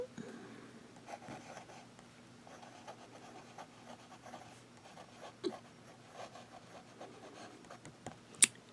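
Extra fine fountain pen nibs, a Yiren and a Lamy Safari, scratch faintly across paper in soft, uneven strokes, close and quiet, with a couple of sharper taps near the end.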